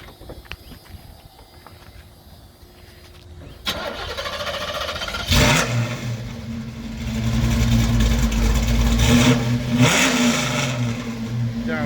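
A 383 stroker V8 in a 1984 Chevrolet C10 short-bed truck cranks and fires after a quiet start, then settles into a loud, rumbling idle with repeated revs swelling and falling, heard up close.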